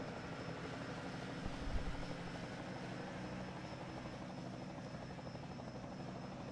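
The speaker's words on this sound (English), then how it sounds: "Helicopter." Helicopter rotor chop in the NASCAR Racing 2003 video game during a 1999 Craftsman Truck Series race at Nazareth Speedway, a steady broadband drone with a brief low thump, alone without talk.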